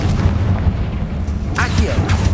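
A Confringo blasting spell explodes in the video game Hogwarts Legacy, making loud, rumbling booms with sharper bursts late on, over dense, continuous game noise.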